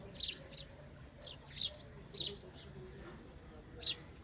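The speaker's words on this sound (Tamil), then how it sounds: "சிட்டுக்குருவி இருக்குது, சிட்டுக்குருவி." Sparrows chirp in short, bright bursts outdoors near Ooty in the Nilgiris, several quick tweets spaced irregularly over a steady background hum, moderately close but fairly soft.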